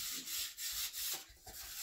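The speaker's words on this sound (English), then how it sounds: "I'm sanding." Steady, close-up rasping strokes of hand sanding on a 1962 Chevrolet Impala's body, repeating in short back-and-forth passes with brief pauses between them.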